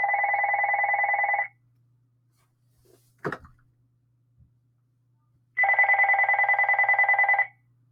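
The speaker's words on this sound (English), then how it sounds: "Sorry, that was my phone ringing." A mobile phone rings loud and close with an electronic ringtone in two bursts. A long quiet gap separates them, broken by a brief knock.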